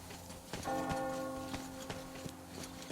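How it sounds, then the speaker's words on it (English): A bell tolls in the video game Metro Exodus, a single ringing strike with a lingering hum, amid soft rhythmic ticking and knocking in the game's ambience. "You hear that bell?"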